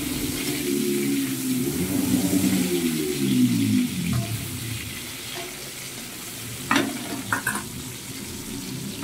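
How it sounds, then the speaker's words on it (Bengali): Salted potato pieces fry in hot oil in a kadai while being turned over, giving a steady, fairly loud sizzle with a few sharp clinks of a utensil toward the end. "দিয়ে ভালো করে আলুর গায়ে মাখিয়ে নিচ্ছি, নিয়ে এবারে এপিট ওপিট করে কড়ার মধ্যে দিয়ে ভেজে নিচ্ছি"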